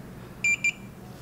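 A BOLY trail camera gives a double beep while taking a test picture: two short, high electronic tones in quick succession, the first slightly longer, close by over faint background hiss.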